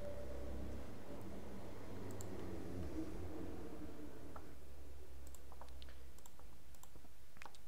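Sparse keystrokes on a computer keyboard come in short irregular clusters over a low hum, soft and close, with no talking.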